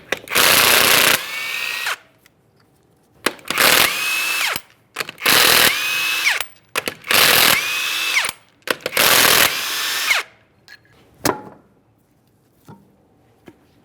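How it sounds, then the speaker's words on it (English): A power tool zips five 21mm lug nuts off a Chrysler 300 wheel in five loud bursts, each a couple of seconds long, with short pauses between them. A few clanks follow the last burst. "To remove the wheel, we're going to remove all 5 of our 21mm lug nuts and we can get the wheel off of here."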